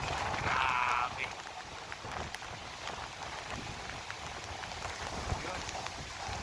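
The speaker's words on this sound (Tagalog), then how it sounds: "Ayan yan, lakas na naman ng ulan." Heavy typhoon rain pours steadily as a dense, broadband hiss, with a brief higher-pitched sound near the start.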